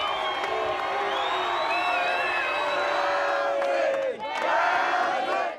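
Large motor racing crowd cheers Craig Lowndes with a sustained roar of shouts and whoops, loud and continuous, swelling again near the end.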